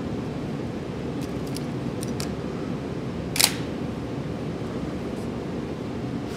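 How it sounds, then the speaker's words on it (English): A Nikon FM-10 film camera gives a single crisp shutter snap, preceded by a few faint clicks of the advance lever against a quiet hiss. "If I pull this lever back, it's going to allow me to actuate my shutter."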